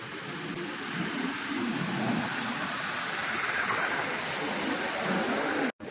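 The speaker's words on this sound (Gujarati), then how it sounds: "દરિયો તમે જોઈ શકો કેવો ગાંડો તૂર બન્યો છે." Rough sea surf at Madhavpur beach roars as a steady, loud wash of broken waves throughout, with a brief dropout near the end and no talking.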